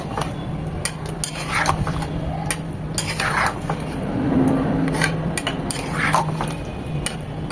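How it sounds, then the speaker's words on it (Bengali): Chicken being stirred into a thickened garlic sauce in a pan, with repeated soft scraping and clinking of a utensil against the pan over a low steady background hum, no voices. "এখন আমরা চিকেনগুলো দিয়ে দেবো ভালোভাবে মিশিয়ে নেবো"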